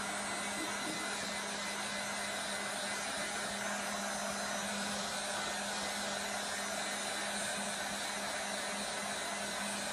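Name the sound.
heat gun drying chalk paint on mason jar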